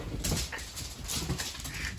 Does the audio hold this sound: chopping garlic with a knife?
no